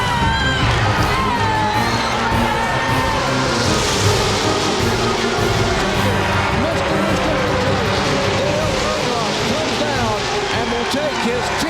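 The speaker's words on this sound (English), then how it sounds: "listen to this crowd of" A huge crowd of about 170,000 roaring and cheering at a Talladega stock car race, a loud continuous wall of shouts and whoops from the grandstands, with an excited commentator talking over it throughout.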